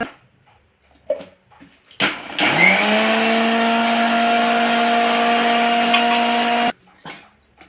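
Kitchen mixer grinder blending mint chutney, starting with a sharp burst and then holding a loud, steady high whine for about four seconds before cutting off, with quiet handling noises before and after.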